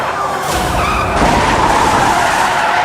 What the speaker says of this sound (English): The officer's final ram sends the suspect skidding out of control.